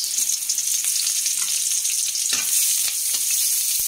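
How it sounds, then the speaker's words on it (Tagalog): Chopped garlic fries and sizzles in a pan while being stirred, a steady close crackle broken by a few scraping stir strokes. "Next na po natin ay yung bawang. Haluin natin hanggang mag-brown."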